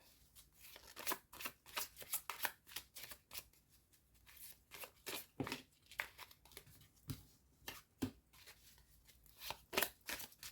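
Oracle cards shuffled by hand for a love reading, a steady series of soft riffling snaps and card slaps repeating through the whole stretch, close and quiet with no talk.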